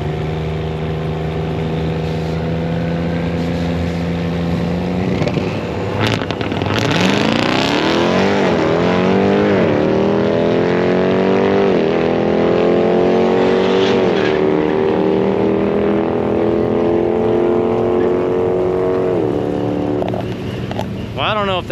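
A diesel truck roll racing at speed, its engine roaring loud and steady, then winding up through a series of rising, sweeping revs as it pulls hard, with a constant rumble underneath.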